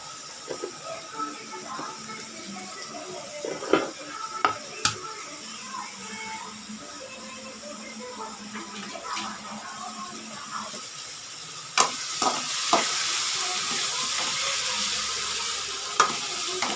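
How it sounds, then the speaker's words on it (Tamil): Chopped onions sauté in a pan for a chicken gravy, giving a continuous close sizzle and hiss with occasional utensil clinks from stirring, the frying growing louder toward the end. "நல்லா வதக்கணும் வெங்காயம்"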